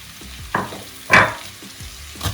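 Onion and ginger hit hot oil in a pan, giving short bursts of sizzling and frying, with a louder hiss in the middle and stirring noises between, close and alone without talk.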